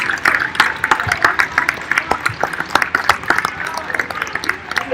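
Crowd at a college basketball game applauding alumni on center court, scattered sharp hand claps with cheering and crowd voices mixed in, fairly close and loud.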